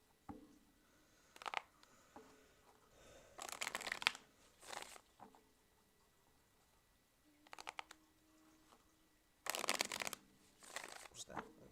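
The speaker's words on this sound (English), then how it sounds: "Okay, and tell me when to stop shuffling." Tarot cards shuffled by hand, several separate bursts of riffling and sliding with quiet gaps between them, close and soft.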